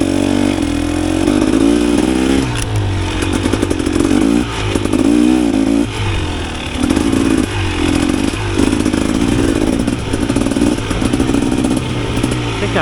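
A Yamaha YZ dirt bike is ridden through deep sugar sand, its engine loud and close, rising and falling in repeated surges as the throttle is worked, with rattling and scraping underneath.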